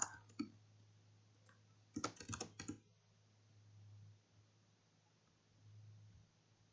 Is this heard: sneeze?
no